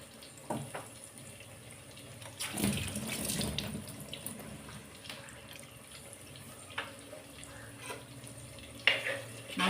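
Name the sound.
water running while washing coriander leaves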